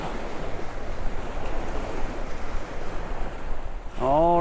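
Ocean waves surge and wash onto a beach in a steady, loud broadband roar, with wind buffeting the microphone throughout and a heavier wash near the end.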